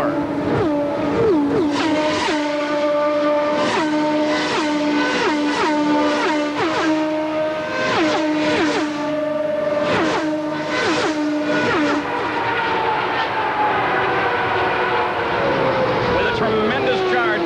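A pack of 1993 Indianapolis 500 Indycar race cars screams past at speed, with loud engines rising and falling in pitch as each car flashes by in quick succession, under commentary.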